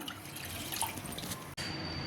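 Water pours into a cooking pan in a steady, close splashing stream with a brief break before it carries on.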